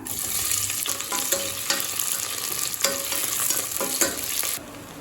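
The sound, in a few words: onions frying in a pan for chicken biryani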